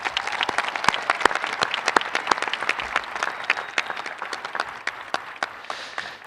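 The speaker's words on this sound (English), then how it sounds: "Please give the class a round of applause." A crowd at a high school graduation ceremony applauds the class of 2023, a lively spread of clapping with many sharp, distinct hand claps standing out near and far, sustained evenly throughout.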